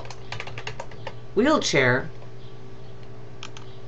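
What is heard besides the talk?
typing a keyword on a computer keyboard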